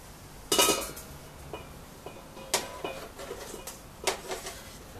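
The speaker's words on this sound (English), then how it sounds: "Now simply slide the apple into the bowl." Grated apple slid from a grater or board into a mixing bowl, with a series of light clinks and scrapes on the bowl, several short bursts spaced over a few seconds, close and fairly quiet.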